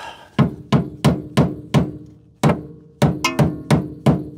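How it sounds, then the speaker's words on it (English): A hammer taps the lip of a Nissan Gloria's rear quarter panel where it meets the wheel well, sounding as about a dozen sharp, close metallic knocks in a steady rhythm with one short pause partway through, and no talk. "I'm hammering the lip of the quarter panel that attaches to the outer wheel well or wheelhouse very slightly"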